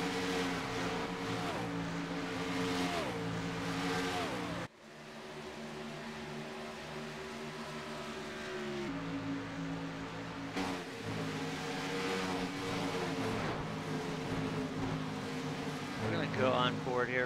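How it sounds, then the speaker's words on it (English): A racing video game field of stock cars rolls past the start-finish line at Auto Club, engines droning steadily with shifting harmonic whines and a sharp cut partway through, while a commentator talks over the sound throughout. "So basically the field rolling by here at the start-finish line."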